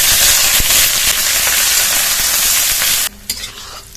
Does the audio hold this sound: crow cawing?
no